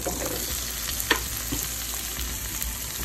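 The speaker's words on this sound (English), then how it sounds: "I'm also making some sauteed mushrooms. So I'm melting my butter. I'm gonna add the mushrooms." Mushrooms sautéing in melted butter in a pan, a steady close sizzle and crackle throughout with a few stirring clicks, no talking.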